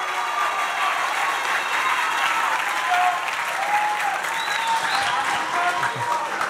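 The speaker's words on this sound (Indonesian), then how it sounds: "Beri tepuk tangan sekali lagi untuk para narasumber kita" Sustained applause from a campus student event audience honoring the speakers, dense steady clapping filling the space, with faint voices and a few whoops mixed underneath.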